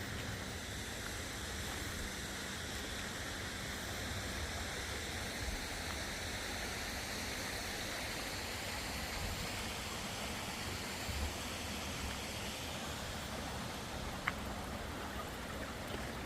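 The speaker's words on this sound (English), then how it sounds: "Babbling Brook." A babbling brook runs steadily near a waterfall as dusk falls, its flowing water making a dense, even rush that holds constant throughout with no voices.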